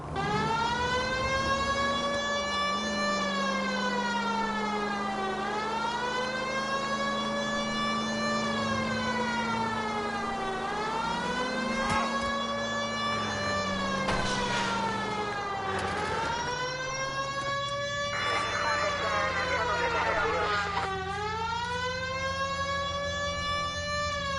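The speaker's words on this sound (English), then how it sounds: "I don't know about you, but I feel more comfortable with the siren on." A police car siren in the L.A. Noire video game wails in long rising and falling sweeps, loud and continuous for over twenty seconds, with engine rumble underneath.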